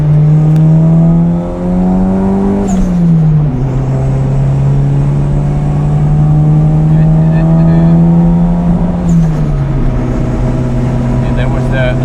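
Toyota Celica GT-Four engine droning steadily under load while driving, with a brief stutter where the pitch dips and the note drops twice before carrying on; the sound is close and loud inside the car.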